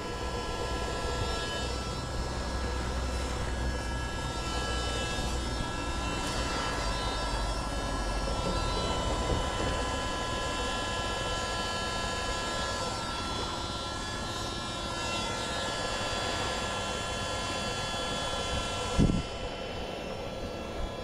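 An air pump inflates the tubes of an inflatable boat with a continuous, close mechanical motor drone that holds steady throughout. A brief knock comes near the end.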